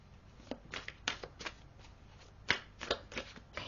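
A deck of tarot cards being shuffled by hand, quiet and close. Crisp riffles and soft flicks come in short, irregular bursts, with brief pauses between them.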